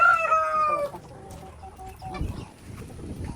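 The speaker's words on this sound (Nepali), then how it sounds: "त्यो कुखुरा हेर्नुहोस् है" Chickens cluck and call nearby on a large poultry farm, a rooster's drawn-out crow opening over a busy background of farmyard birds and shuffling.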